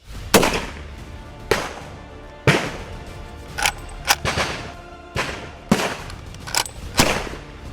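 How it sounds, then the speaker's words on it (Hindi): Gunfire from Gorkha soldiers' battle drill: sharp, loud rifle shots crack out at irregular intervals, some single and some in quick pairs, with brief echoing tails and no voices. "आगे बढ़ते हुए फायरिंग करना आसान नहीं होता"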